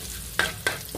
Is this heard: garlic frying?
yes